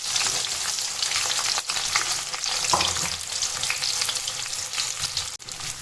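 Onions dropped into hot oil for mutton kosha fry with a dense, crackling sizzle up close, broken now and then by brief stirring knocks and scrapes.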